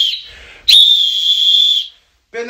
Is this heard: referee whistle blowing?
yes